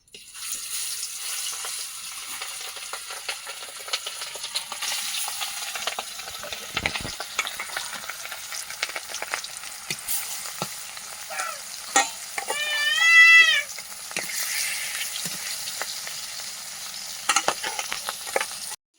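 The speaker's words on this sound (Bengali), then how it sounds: "এবার মাছগুলো ভেজে নিচ্ছি" Pangas fish frying in a pan at home, a steady soft sizzle running throughout with occasional clinks and scrapes of utensils and a brief higher whine near the middle.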